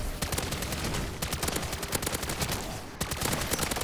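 Continuous rapid automatic gunfire from the video game MW3 Zombies rattles loudly and densely throughout, with a brief dip before the shots resume.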